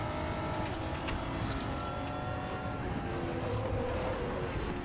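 A GT4 race car engine in RaceRoom Racing Experience gives a steady, loud, buzzing drone at close range that holds at a constant level with slight fluctuations.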